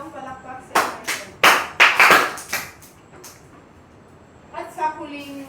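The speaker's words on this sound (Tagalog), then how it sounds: "Bigyan rin ng 3 palakpak si Anderson." A classroom gives a round of claps for a student during a Filipino grammar lesson: several sharp bursts of clapping in a cluster, with a voice speaking faintly before and after.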